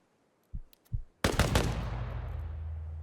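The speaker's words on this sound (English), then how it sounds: "He's literally shooting at dead bodies" Gunfire in ARMA Reforger: two dull single shots followed by a rapid loud burst of automatic fire that rings out and decays into a low rumbling tail, no voices.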